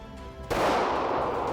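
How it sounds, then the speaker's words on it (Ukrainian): One loud, sharp pistol shot cracks out close by, its blast ringing and decaying over the following second. "Ну і нарешті завершальний постріл."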